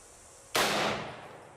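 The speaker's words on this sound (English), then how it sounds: "308 armor penetrating incendiary rounds. Now that is nice. This should put a hurt on that lock." A Barrett rifle fires a single .308 armor-piercing incendiary round at a lock outdoors, one sharp loud crack after a quiet start, followed by a fading echoing tail.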